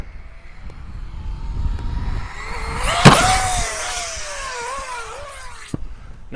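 An Arrma Typhon 6S RC car launches off a ramp and flies through the air, its motor whining in a rising and falling pitch over steady outdoor noise, with a sharp thump around the middle as it lands.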